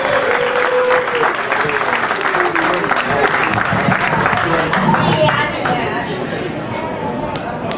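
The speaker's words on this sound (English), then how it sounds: "Let's give a round of applause to James Anderson." Applause from an audience at a Hokie Club event for former player James Anderson, a dense, loud, sustained wash of clapping with murmuring voices mixed in, easing slightly near the end.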